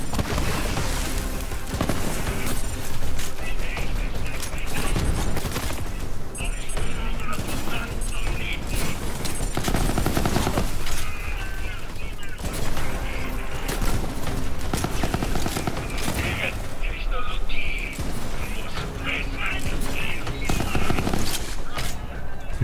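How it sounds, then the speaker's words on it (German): Gunfire from sticky weapons in Borderlands 3, rapid continuous bursts of shots that fill the whole stretch, layered with game effects and occasional talk. "Das macht voll Spaß, mit denen zu schießen."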